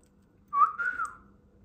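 A pet bird gives one short whistled call, a rising note that bends and holds for about half a second, close and clear over a quiet room.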